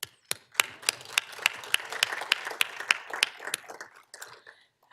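Hearty applause for Team Canada in a city council chamber after their Davis Cup win. Many hands clap in a close, crisp burst that thins toward the end, with no voices over it.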